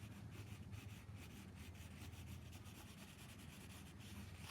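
A pencil shading on paper makes soft, close, continuous scratching and rubbing with light repeated strokes. It is very quiet and there are no voices.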